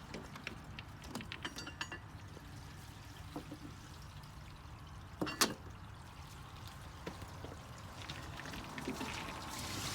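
Gray water draining out of an RV holding tank while boondocking, a steady low wash and trickle running throughout with a few faint clanks and a brief louder knock midway.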